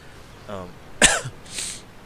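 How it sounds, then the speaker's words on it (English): A sick man coughs sharply once at close range, followed by a shorter throat-clearing burst, with a faint vocal sound just before; no words are spoken. "I'm still coughing."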